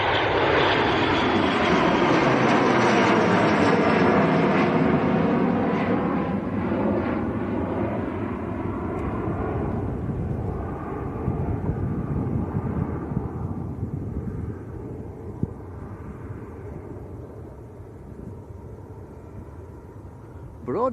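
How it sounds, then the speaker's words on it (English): A small light aircraft takes off at Manchester Airport, its engine roar loud and broad at first, then slowly fading and thinning as it climbs away over about twenty seconds. "So this should rotate way before us, nice small light aircraft."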